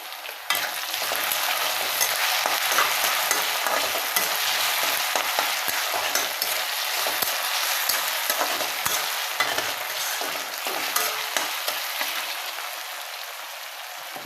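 Potatoes with salt cooking in a pan over low gas for kande pohe, a continuous dense sizzle and frying crackle with occasional stirring scrapes, close and steady throughout.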